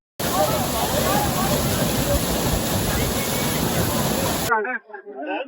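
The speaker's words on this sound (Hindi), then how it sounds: "हम वाटरफॉल में नहा रहे हैं," A powerful, icy mountain waterfall on the trek to Fairy Meadows, with people bathing beneath it, roars loud and constant up close, then cuts off sharply to a brief voice.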